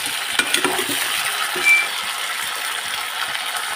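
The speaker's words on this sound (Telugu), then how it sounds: "వంకాయలు ఒక 2 నిమిషాలు ఇట్లా కలుపుకోవాలి." Brinjals frying with onion and curry leaves in a pan, a steady soft sizzle with scattered scraping clicks of a spoon stirring through them, close and without talk.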